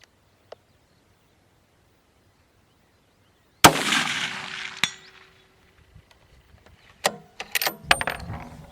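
Rifle shot fired at a 300-yard target during a scope test, a single loud sharp blast with a ringing decay, followed after a pause by several clinks, clanks and handling clatter nearby.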